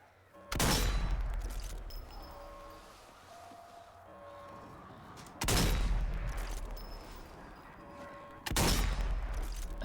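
Sniper rifle shots at Nazi zombies in Zombie Army 4: three loud, booming single shots spaced a few seconds apart, each followed by a long echoing tail and faint game ambience.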